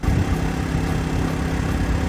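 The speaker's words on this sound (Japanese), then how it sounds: "この時の発電機の音はこんな感じ。" EENOUR GS900i-B portable inverter generator running on cassette gas canisters, a steady close-up engine drone with an even low rumble and no breaks, resembling a small moped engine.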